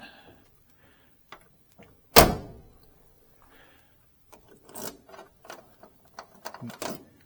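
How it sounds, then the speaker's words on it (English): Door locks on a 1969 Chevelle SS 396 are worked, giving one loud sharp clack followed by a run of quieter mechanical clicks and latch snaps, close up with no talking. "Door locks work nice."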